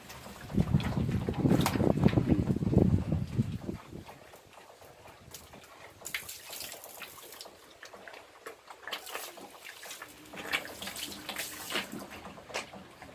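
Fat farm pigs raised on feed drink hard, producing loud, close sloshing and gulping water noise for the first few seconds. Quieter splashing and slurping follow in scattered bursts.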